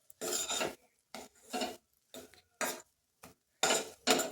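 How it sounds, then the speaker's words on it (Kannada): Kesari bath is stirred and roasted in ghee in a pan on low flame, a close scraping rasp of the spoon repeated in about seven separate strokes with short pauses between them. "ಆದ್ದರಿಂದ ಲೋ ಫ್ಲೇಮಲ್ಲೇ ಇದನ್ನು ಸ್ವಲ್ಪ ಹುರ್ಕೊಳ್ಳೋಣ."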